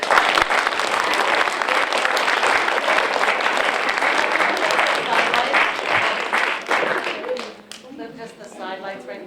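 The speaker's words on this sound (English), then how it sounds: "let's give them a big round of applause as we start" A large audience at a junior high school drama performance applauds loudly and steadily for several seconds, then the clapping thins out and fades as a voice begins speaking.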